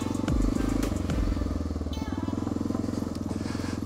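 A Honda motorcycle rides along a sandy road, its engine a loud close throbbing drone with a revving surge early on, then settling into a steady pulsing rhythm alongside some clatter.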